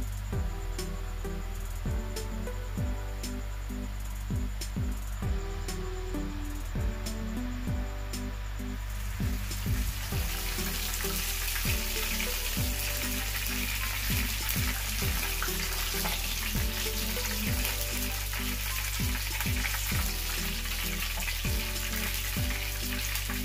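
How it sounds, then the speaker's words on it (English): A coconut fish fillet cooks in a pot after being flipped, giving a dense continuous sizzle with repeated light clicks and taps that grows fuller and louder partway through. "we're gonna flip our fish and cook for additional 3 minutes"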